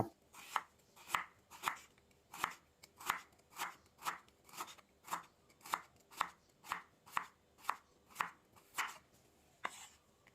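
A knife slices galangal on a cutting board, about twenty even, crisp strokes at a steady pace, close and fairly quiet.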